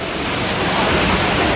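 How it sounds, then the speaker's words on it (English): An amusement park water ride at the Prater in Vienna splashes with a steady, loud wash of rushing water, continuous and close throughout with no talk. "And directly into the next attraction, the water ride."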